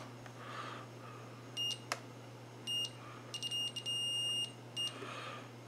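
A multimeter beeps while continuity is checked across the solder pads of a QRP end-fed half-wave antenna kit, giving several short high beeps and one longer tone over a faint steady hum.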